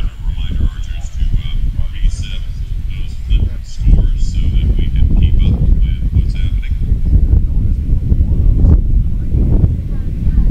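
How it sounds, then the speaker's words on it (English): Wind gusting across an outdoor beach volleyball court at the U.S. Open: steady low rumbling buffeting against the microphone, loud and continuous, with faint distant voices mixed in. "Again, the wind picking up."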